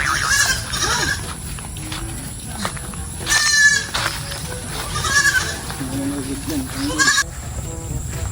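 A goat bleats several times in wavering cries, close by, near a river, with people talking in the background.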